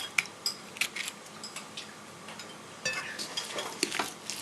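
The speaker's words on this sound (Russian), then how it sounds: "Перемешиваем." A fork mixes a raw egg into mashed cottage cheese in a bowl for syrniki, giving quiet, irregular clinks and scrapes of metal against the dish, close and soft, with no talk.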